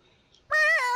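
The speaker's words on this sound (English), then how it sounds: "My kitty cat." A house cat gives a single loud, close meow, a drawn-out tonal cry lasting about half a second, after a near-silent pause.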